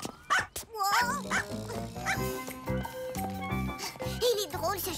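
Cartoon dog in a French children's animated show yipping and barking in short playful bursts, mixed with background music and a voice.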